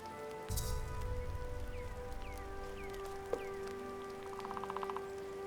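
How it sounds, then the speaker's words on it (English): Steady rain patters across a landscape in the video game MirthWood, a constant wash of droplets with a few faint birdlike chirps and a brief thump partway through, no voices. "NPCs are just staying out in the rain."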